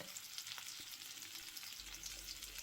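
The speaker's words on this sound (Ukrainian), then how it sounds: "Переключаємо вогонь на щонайменший і поверх цибулі викладаємо обсмажену рибку." Hake and onions sizzle in a frying pan over low heat, a constant, close crackling fry with fine spitting pops throughout.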